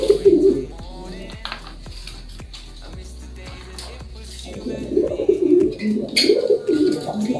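Pigeon coos in low, throaty bursts, one at the start and a longer run of cooing later, close and fairly loud, with brief clicks and a pause between.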